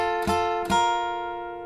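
An electric guitar plays the opening four-note phrase of a solo: two clear plucked attacks, then sustained notes ringing and slowly fading, played alone.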